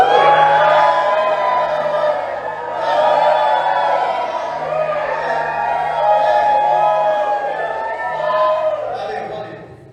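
A church audience at a Brazilian sermon shouts, whoops and cheers loudly on cue, a sustained roar of many voices that swells and dips throughout.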